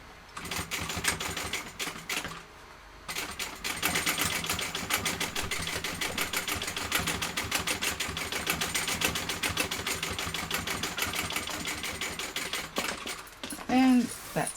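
Sewing machine stitching a zigzag reinforcement row on a small garment, a steady fast mechanical rattle running almost continuously after a brief pause, close and loud, with a voice talking over it near the end.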